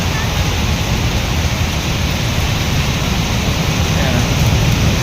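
Heavy downpour heard from shelter under a bridge, a loud, steady wash of rain that stays constant throughout, with a possible faint voice buried in the roar.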